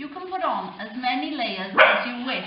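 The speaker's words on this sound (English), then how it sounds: "that was the dog barking." A small dog barks indoors at someone passing outside, one short sharp bark rising briefly over a person talking steadily nearby.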